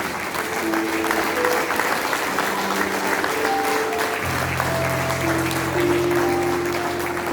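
A church congregation at a Sunday service claps steadily for several seconds, a dense, even applause, with sustained tones from an organ or keyboard running underneath.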